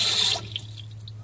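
Water drips from the float valve of an evaporative swamp cooler, a few faint, scattered drops plinking after a brief rush of running water at the start.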